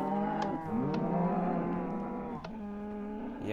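Cows in the video game Minecraft moo, several drawn-out lowing calls following one another close by, clear and unaccompanied by talk.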